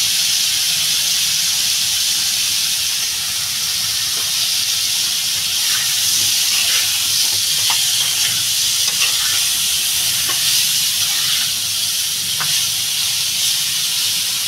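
Hilsa fish, potato and eggplant curry sautéing with turmeric in a pan, giving a loud, steady sizzling hiss throughout, with occasional faint stirring scrapes.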